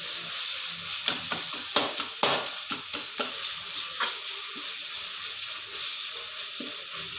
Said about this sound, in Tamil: கொஞ்சோண்டு சாம்பார் தூள், அவ்வளோதான். நல்லா வதங்கிடணும்.